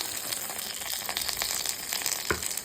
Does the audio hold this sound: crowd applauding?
no